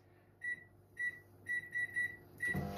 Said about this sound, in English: we're going to pop this into the microwave at